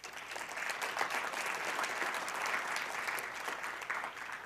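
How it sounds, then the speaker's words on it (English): Steady applause from an audience at a lecture, dense continuous clapping filling the whole stretch with no voices on top. "No clapping, you're using my time."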